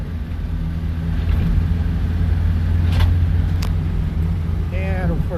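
Early Fiat 600 engine pulling in third gear on the road, a steady strained rumble with cabin noise and no talking.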